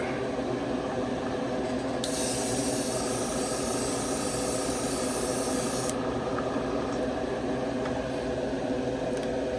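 Airbrush hissing steadily, loud and close, with a brighter burst of spray partway through, used on a 1956 Chevy Gasser model.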